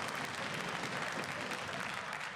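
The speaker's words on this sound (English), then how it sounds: "You can hear the energy of the crowd." A dense, steady wall of crowd cheering and applause fills the arena at a League of Legends EU LCS Summer 2016 esports match between G2 Esports and H2K Gaming, loud and continuous without a break.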